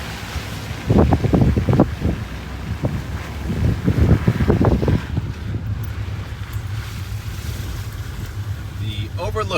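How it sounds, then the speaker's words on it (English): Strong wind roars across the microphone at Cold Storage Beach on Cape Cod during heavy rain, a steady rushing buffet beneath a person speaking in the first half. "Wind is whipping here."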